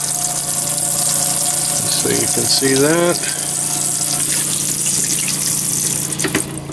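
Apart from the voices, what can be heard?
water pump running in a 1987 Lesharo motorhome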